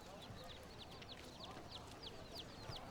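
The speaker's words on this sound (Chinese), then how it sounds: "小鸡吃米" Chicks clucking and cheeping while being fed rice, a run of faint, rapid high chirps repeating in quick succession close by, with soft background noise.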